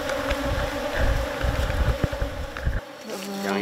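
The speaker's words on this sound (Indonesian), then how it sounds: "Lebah-lebah membangun sarangnya di dahan pohon" Wild honey bees swarm around their combs on the branches of a tall sialang tree during a honey harvest, a loud, dense, continuous buzz close by that drops away just before the end.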